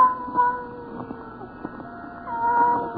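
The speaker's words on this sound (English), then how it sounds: "the faint crying of one cat" A lone cat crying in the night, a drawn-out wavering wail that rises and falls in pitch, repeating over a steady background and swelling slightly toward the end.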